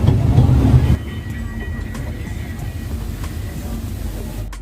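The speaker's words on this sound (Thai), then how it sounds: "พวกเรากำลังนั่งรถไฟทีเบอร์เที่ยวกันต่อค่ะ" Steady rumbling of a tourist train ride at Dream World with a continuous rolling hum, a louder stretch at the start, then faint clicks over the ongoing rail noise.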